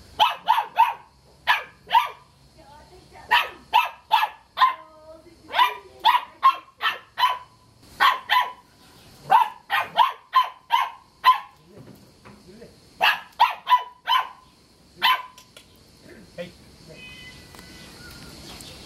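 A small dog barks repeatedly in quick bursts and short volleys, close by, with brief pauses between runs and a quieter stretch at the end, in Kalkan, Turkey.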